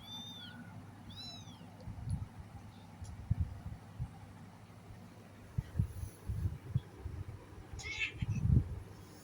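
A pet cat gives a few short meows, moderately close, between quieter rustling and handling noises at home.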